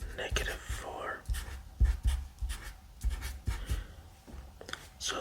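A Sharpie marker squeaks and scratches across paper in short strokes, close and intimate, while a man whispers throughout.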